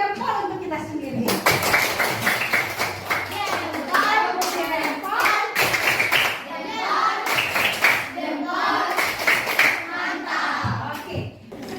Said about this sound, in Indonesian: Mari kita tepuk jempol untuk kita sendiri